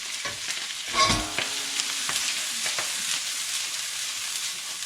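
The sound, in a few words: vegetables stir-frying in a pan with garlic and chili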